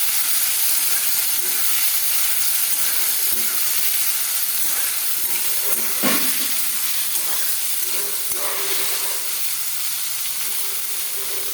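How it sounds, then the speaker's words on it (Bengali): Pre-boiled vegetables fry lightly in a pan, giving off a continuous broad steamy hiss and sizzle that stays even and fairly loud, with a few soft stirring knocks near the middle. "এখন সবজিগুলোকে সব ভেজে নিব"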